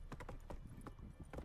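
Roach the horse galloping in the video game Witcher 3, quick rhythmic clip-clop hoofbeats, several in fast succession, moderately close and fairly quiet, without talking.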